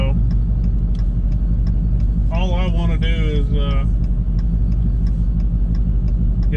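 Dodge Hellcat fitted with a Kenny Bell supercharger idling nearby, a loud, steady, pulsing low rumble throughout while someone talks over it.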